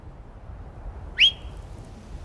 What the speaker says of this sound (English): I need horse whistle.